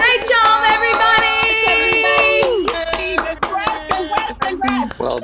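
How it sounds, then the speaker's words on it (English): Participants at the close of a virtual meeting cheer and clap for performers, with a steady stream of hand claps running through the whole stretch alongside strong tonal music-like sounds, fairly loud and continuous. "Let's cheer all of our performers."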